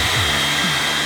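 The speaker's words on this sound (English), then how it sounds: "I might get my hair dryer. Just give it a quick blast." A hair dryer blows a steady, loud, continuous whoosh over wet paint on a canvas tree painting, close and uninterrupted.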